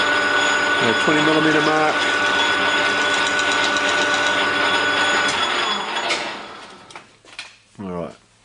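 A lathe turns a PVC barrel with a steady, close mechanical whir and hum, then winds down near the end while someone talks over it.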